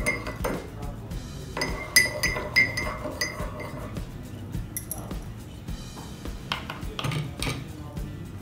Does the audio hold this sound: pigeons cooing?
no